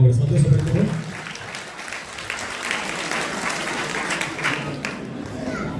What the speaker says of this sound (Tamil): எல்லா ஆன்மீக உடை கிடைத்து வந்த பிள்ளைகளுக்கு நாங்கள் மீண்டும் ஒரு கைதட்டு